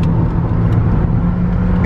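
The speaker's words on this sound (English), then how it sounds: "I'm finally driving like a Puerto Rican." A car driving on a road in Puerto Rico, its engine hum and road noise steady and close throughout, with no talk over it.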